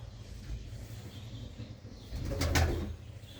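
Pigeons kept for sale coo low and steady nearby, and a brief flurry of flapping wings swells partway through before settling back into quiet cooing.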